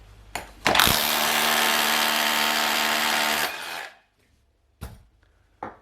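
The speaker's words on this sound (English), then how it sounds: "So we'll drill into the wall and put the raw plug in." A power drill with a 7mm bit bores into a wall in one loud, continuous whining burst lasting about three seconds, bracketed by short clicks and knocks before and after.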